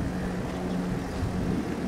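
4x4 quad bikes and a truck at a resort by Lac Rose in Senegal drone steadily in the background, a continuous low engine rumble with no talk.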